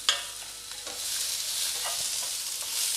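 Chillies, onion, capsicum and tomato sautéed on high flame, giving a steady bright sizzle with occasional stirring scrapes, close and continuous without talk.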